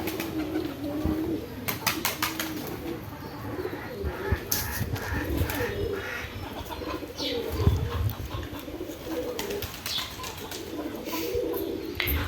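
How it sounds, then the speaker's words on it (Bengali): Pigeons coo softly on a farm, repeated low throaty calls over a faint outdoor background, with occasional chirps and brief wing flutters. "কবুতরগুলো ঘুরে বেড়াতেছে ওই দেখুন ডিম বাচ্চা সব কবুতর করছে"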